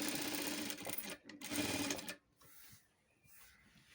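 A sewing machine stitches the front part of a blouse, running steadily and close for about two seconds with a brief pause, then stopping, leaving faint handling sounds.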